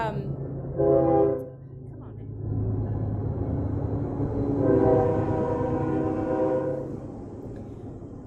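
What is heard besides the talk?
train rolling past with horn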